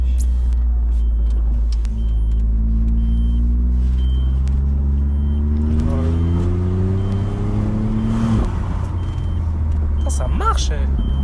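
A Brabus convertible's engine drones steadily at close range while driving, its harmonic pitch slowly rising as the car accelerates, with a brief shift around the middle and people talking over the noise.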